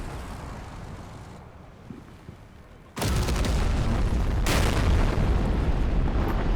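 An anti-tank guided missile strikes a tank in the wargame Combat Mission: Cold War, a sudden loud explosion cutting in after quieter rumbling battle ambience, followed by a sustained heavy roar and a second burst.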